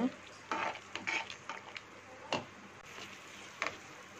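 A spoon clinks and scrapes against a pot of vada curry in a few irregular strokes, quiet and close, with faint background hiss between them.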